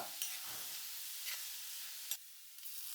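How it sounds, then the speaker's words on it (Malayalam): Shallots sautéed in coconut oil hiss and sizzle as they go into a fish curry, a steady close frying hiss with a few brief stirring scrapes and a sharp burst near the end. "ഇനി വെളിച്ചെണ്ണയിൽ ചെറിയ ഉള്ളി അത് നമുക്ക് വഴറ്റി ചേർക്കാം"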